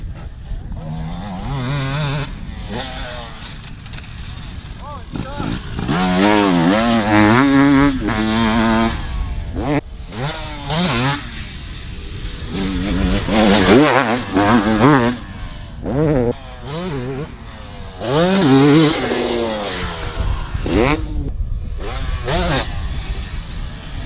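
A dirt bike lapping a motocross track, its engine rising and falling in repeated revving surges as it passes nearer and farther, loud at times and fading between passes, with some talk mixed in.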